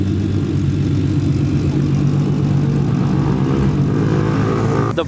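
A modified car's engine rumbles loud and close at a car meet, holding a steady, heavy low drone with a slight lift toward the end rather than sharp rev bursts.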